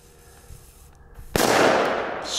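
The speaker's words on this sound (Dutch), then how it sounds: "Het zijn echt goede knallers inderdaad" A powerful firecracker goes off with a single sharp, loud bang that decays into a long rumbling echo, preceded by a quiet fizzing lead-up, close to the listener.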